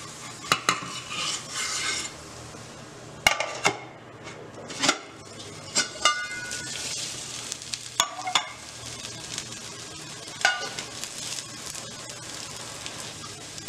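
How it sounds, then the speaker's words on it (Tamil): Egg breakfast frying in a pan on a low flame as it gets flipped, with soft continuous sizzling under sharp metallic scrapes and clinks of a spatula against the pan, occurring in irregular bursts. "இப்போ நம்ம இதை வந்து திருப்பி போட போகிறோம்."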